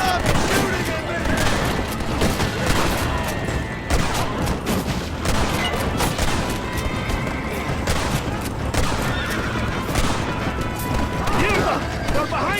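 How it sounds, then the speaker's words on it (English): Chaotic gunfire rattles through a shootout with rebels in Red Dead Redemption, dense overlapping shots and crashes continuing throughout, loud and busy, with a voice shouting over the battle. "Stop shooting at me!"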